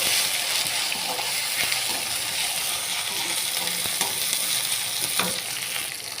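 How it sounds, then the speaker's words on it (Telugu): Ginger garlic paste and turmeric fry in a pan and are stirred, a steady bright sizzle throughout with occasional scraping and clinking of the spoon. "అల్లం వెల్లుల్లి పేస్ట్ వేగాక పసుపు 1 స్పూన్ వేసుకొని కలుపుకోవాలి."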